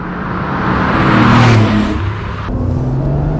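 A 1989 Porsche 911 3.3 Turbo Cabriolet with a five-speed gearbox drives and accelerates, its engine swelling loud and steady from inside the car, then easing after a gear change.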